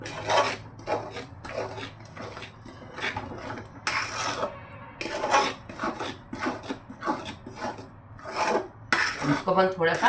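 Sesame barfi mixture being stirred in a pan over low gas, a near rhythmic series of scraping and clattering strokes of a spoon against the metal pan, with no talking.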